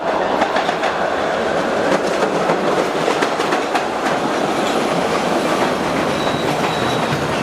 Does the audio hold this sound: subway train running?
yes